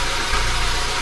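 Toyota Hiace van's 2.75-litre engine idling steadily, a close, continuous low rumble with an even mechanical hum and no voices, lasting about a second.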